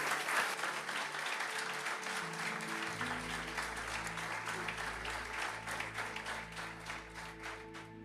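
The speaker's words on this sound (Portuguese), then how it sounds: "Vamos aplaudir a Jesus." Church congregation applauding during a Sunday service, steady crowd clapping throughout while a sustained organ or keyboard chord enters partway and holds beneath it.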